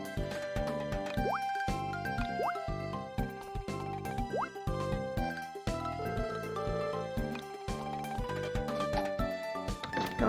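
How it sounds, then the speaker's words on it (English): Watering plants with a watering can in the Harvest Moon: Sunshine Islands video game: repeated dripping, splashing water cues play over a continuous cheerful game music loop, with no talking. "watering the rest of those plants"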